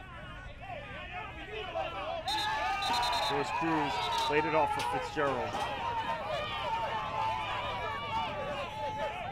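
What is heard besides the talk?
lively crowd of fans at soccer match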